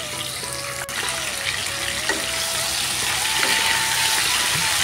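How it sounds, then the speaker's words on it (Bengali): Drumsticks (sajne data) and potatoes fry in hot oil left over from frying fish, giving a constant close sizzle with faint metallic ticks and a thin whine running underneath. "সজনের ডাঁটা এবং আলু দিয়ে ভালো করে নেড়ে তারপর তাকে ঢেকে আমি দুই থেকে তিন মিনিট করে ফ্রাই করে নিচ্ছি।"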